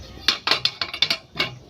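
Metal cooking pots, a kadhai and a bhagona, clatter and clank as they are handled in a village kitchen, giving a quick series of bright knocks and rattles at close range with no talking.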